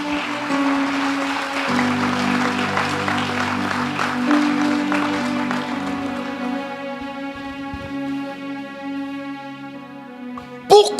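Audience applauding during a church sermon, a dense steady patter of clapping that fades gradually beneath sustained organ-like chords, ending with a brief sharp sound.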